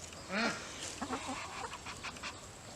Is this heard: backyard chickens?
yes